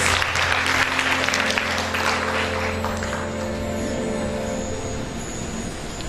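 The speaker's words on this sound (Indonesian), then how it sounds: "Tepuk tangan dulu bagi Tuhan Yesus" A church congregation breaks into loud, dense applause that gradually thins and softens over several seconds, with a low steady hum underneath.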